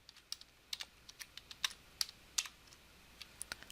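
Quick, light computer keyboard key presses in an irregular typing rhythm while entering Excel formulas, crisp and close, with brief pauses between bursts in an otherwise quiet room.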